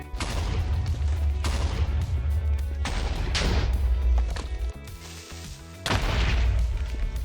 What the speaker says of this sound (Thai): Mod Explosive Enchantment เป็นมอดที่จะเปลี่ยนเอฟเฟกระเบิด ให้ดูมี ความรุนแรงมากขึ้น